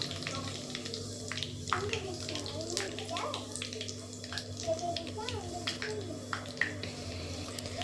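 Mustard seeds and cumin frying in hot oil for sambar rice give a constant hiss with sharp, scattered pops and crackles, while a person speaks softly over the sizzling.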